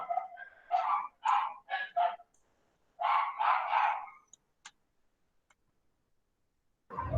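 Several dogs barking in the background during an online session, a quick burst of repeated barks, a pause, another cluster, then quiet, heard fairly close and alone.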